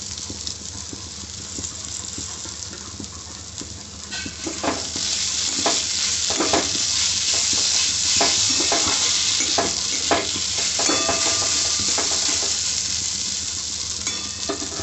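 Rice is fried with spices in a pan, with cashews and raisins in the mix, making a continuous hiss. Bursts of scraping and stirring repeat every second or so and grow louder midway, close and alone with no talk.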